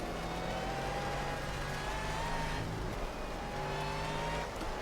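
Steady car engine droning as it drives in Project Cars in VR, with a rising and falling tone through gear changes on a slippery, leaf-strewn road, continuous and moderately loud with no talk.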